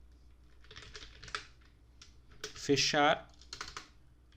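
Computer keyboard typing while entering table code by hand, a run of quick soft key clicks with a denser burst midway, close and fairly quiet, under a voice speaking briefly.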